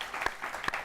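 Audience clapping during an interview panel, a short burst of hand claps with a couple of sharper slaps standing out, heard at moderate distance with no talking.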